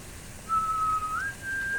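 A person whistles a short clear tune, a held note that steps up to a higher sustained note, imitating the Hunger Games signal whistle, alone and close in a quiet room.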